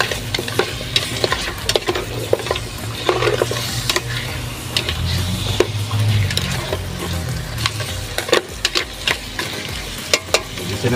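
Pork spareribs sauté in a pan with fish sauce for ginger fried rice. A continuous close sizzle runs under frequent spatula scrapes and clinks against the pan, with no talking.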